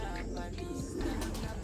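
Racing pigeons coming in at a loft in Bocaue, Bulacan, with soft cooing and bird calls under steady outdoor background noise, moderately close.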